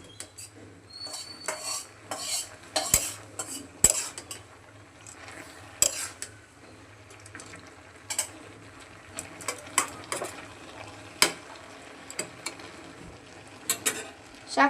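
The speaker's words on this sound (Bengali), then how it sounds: "শাকগুলোকে নাড়িয়ে দিচ্ছি।" A spoon stirs Malabar spinach greens in a lidded cooking pot, making irregular metallic clinks and scrapes against the pot over a soft simmering sizzle. No one speaks.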